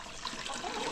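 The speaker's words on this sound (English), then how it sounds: "I'll dump the water in this one" Water poured out of a chicken waterer on a ranch, a short splashing gush, soft and close, running continuously for about a second.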